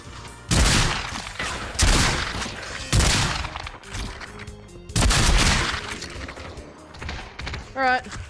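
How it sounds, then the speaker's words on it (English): Heavy bursts of gunfire in a virtual reality shooter game played on an Oculus Quest 2, loud repeated volleys about every second or so, with voices talking between the shots. "keep firing"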